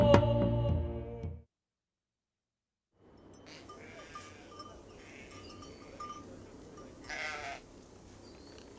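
Goats bleat in a short, loud, wavering burst at the start, followed by silence and then faint outdoor ambience.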